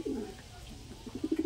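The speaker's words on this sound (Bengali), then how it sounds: "সব কটা ম্যাচের পায়রা তাই তো?" Madras pigeons coo close by, a soft throaty rolling call at the start and a quicker burst of repeated coos at the end, with quiet background noise.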